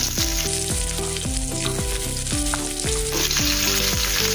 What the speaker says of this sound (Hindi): अभी इसमें हम प्याज डालेंगे। तेल गर्म हो गया है।